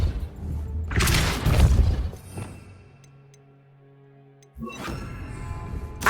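Depulso spell cast in the Hogwarts Legacy video game: a loud crashing burst, then a quieter tonal hum with faint ticks, and a second heavy burst near the end.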